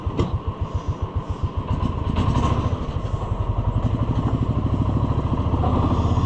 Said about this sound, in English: This one idles nice, but it just has no power.